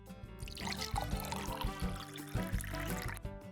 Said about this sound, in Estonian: Nüüd lisame natuke vett.